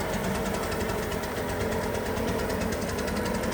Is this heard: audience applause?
no